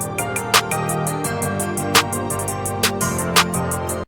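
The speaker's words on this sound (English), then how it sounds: "Then we just got one clav over here. It just sounds like" A clav part sits in a hard melodic type beat, its short tuned plucks bouncing among crisp hi-hat ticks and sharp snare hits over a low sustained bed, loud and steady with no talking.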